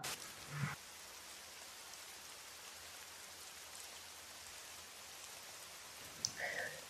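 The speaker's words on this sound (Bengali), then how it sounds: "বাইরে বৃষ্টি হচ্ছে" Rain falling outside as a steady, even hiss throughout, with a few brief knocks near the start and end and no voices.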